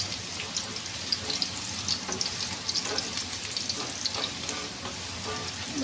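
Pork belly fries in a pan with garlic and ginger, a dense continuous sizzle and spatter close up, with occasional light stirring taps and scrapes, no talking.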